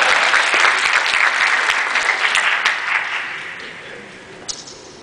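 Audience applause fills a convention business meeting hall, loud and dense at first, then thinning and fading over several seconds with a few scattered late claps.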